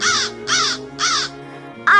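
Three harsh, loud bird calls played as a sound effect in a school play for a hoopoe, evenly spaced and alone, followed by a brief clipped sound.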